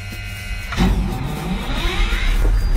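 A car engine turns over with a whirring starter, then catches and runs with a rising rumble, close and fairly loud.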